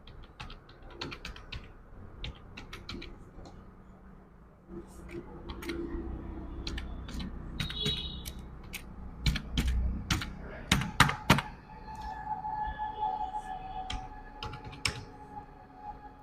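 Login details are typed on a computer keyboard while filling out an online railway job application form, with quiet, irregular key clicks that come in bursts and grow busier toward the end, under soft talk.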